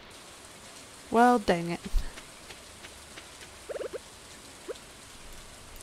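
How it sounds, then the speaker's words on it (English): Steady, soft rain patter fills the background of a Stardew Valley farm scene, continuous and even, with a short burst of speech and a few chiming game tones breaking over it. "It's currently raining."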